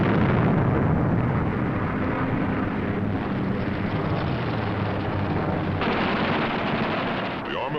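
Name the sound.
fighter aircraft machine guns firing 50 caliber ammunition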